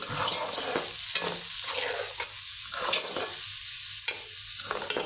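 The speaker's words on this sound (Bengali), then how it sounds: "ডালটা কষিয়ে নেব ভালো করে ডাল ভালো করবো তেলও দেওয়া হয়েছে" Dal with chilli powder and green chillies sautéing in oil, giving a loud, continuous hiss and sizzle broken by repeated scraping strokes of a spoon through the pan.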